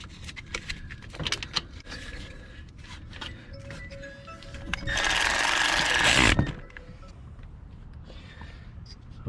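A Toyota Corolla starter's top bolt is tightened with a ratchet, giving soft clicks and metallic taps, then a loud sustained whirring burst lasting over a second, close, with faint talk around it.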